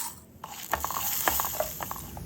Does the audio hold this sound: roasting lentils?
yes